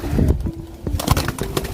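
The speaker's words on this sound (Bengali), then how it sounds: "পায়রাগুলো ভয় পেয়ে যাচ্ছে আমি তারা করছি বলে মান্টু এখন ওদিকে গেছে" Frightened pigeons coo and flutter close by on a rooftop, with short bursts of wing flapping and scattered bird calls over a noisy background.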